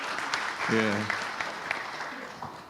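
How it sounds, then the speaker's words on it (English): A financial sector conference audience claps for a few seconds, moderate scattered applause with a voice speaking briefly over it. "Let's make applause, big applause for all of us now."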